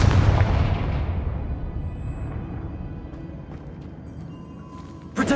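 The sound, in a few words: Confringo blasting spell explosions in video game Hogwarts Legacy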